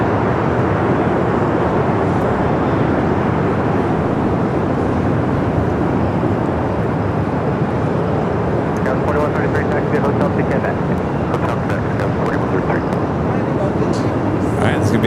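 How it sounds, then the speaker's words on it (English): An Avianca Airbus A320neo takes off from runway 24 left at Los Angeles International Airport, its steady broadband engine roar loud and continuous throughout, with voices talking over it. "Got the Avianca rolling down to 24 left."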